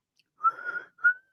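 A person whistles two short notes, a longer wavering tone followed by a brief rising one, clear and close with no other sound.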